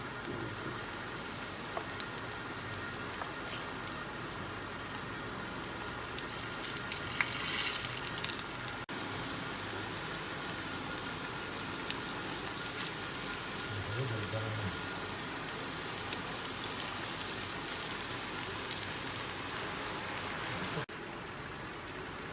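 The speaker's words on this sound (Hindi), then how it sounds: "अब इसमें पकौड़े निकाल रहे हैं, छोटे छोटे पकौड़े डाल रहे हैं" Small pakoras sizzling in hot ghee for Lahori kadhi pakora, a steady crackling fry throughout with light bubbling, brief louder spikes as pieces go in, and a voice talking over it.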